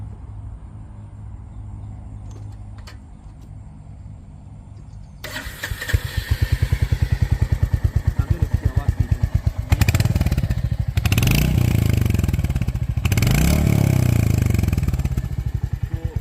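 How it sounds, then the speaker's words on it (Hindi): A Royal Enfield Hunter 350 motorcycle turns over and fires up close by, then settles into a rapid, steady thumping idle with a few rev swells. A voice speaks briefly before the start. "तो चलिए गाड़ी स्टार्ट ही कर देते हैं।"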